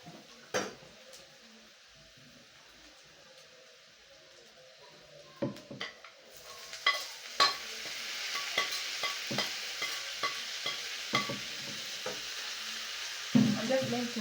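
Tomatoes go into a pan of golden fried omena, a Kenyan dish, and a soft sizzle builds and grows louder, with scattered utensil clinks and stirring scrapes throughout.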